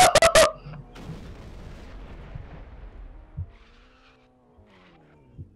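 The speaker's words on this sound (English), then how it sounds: "Wow, that's actually quite a large explosion." A large explosion in the Garry's Mod sandbox game opens with a loud, sharp blast, then a long rumbling roar that fades over several seconds, with a few smaller thuds near the end.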